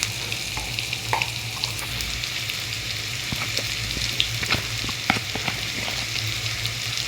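Onion paste and spices fry in a pan with a steady, close sizzle, broken by occasional scraping taps of a utensil stirring the mixture.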